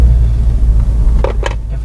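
Honda Civic Type R running on a factory test track, a steady low engine and road rumble throughout with a couple of brief higher-pitched bursts near the end, no voices.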